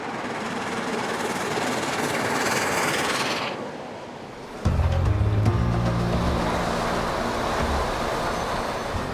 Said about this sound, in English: the loco is settling into its stride again on a part of the East Coast line known as the Racing Stretch